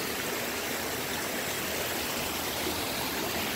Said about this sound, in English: have a little nice water running here